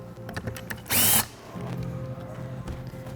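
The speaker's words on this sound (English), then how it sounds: "Undoing your axle nuts, front and rear." A power drill briefly whirs while undoing the front and rear axle nuts on an Evolve electric skateboard, one short loud burst amid quieter handling noises.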